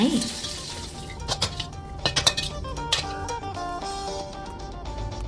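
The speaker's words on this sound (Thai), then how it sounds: "ต่อด้วยหั่นมาทอดพริกแห้ง เอาไว้กินกับซุปหน่อไม้" Dried chilies sizzle steadily in oil in a pan as they fry, with metallic clinks and stirring scrapes throughout.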